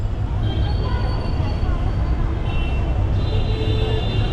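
Busy train station in Mumbai: a loud, steady low rumble of trains and traffic, with high squeals or whines coming and going and voices mixed into the din.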